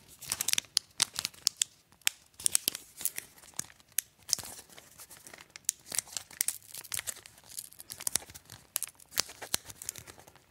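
Adhesive paper wrap being torn and peeled off a new Nothing Phone (2) during unboxing, a close run of sharp crackling rips and crinkles with brief pauses, no voices.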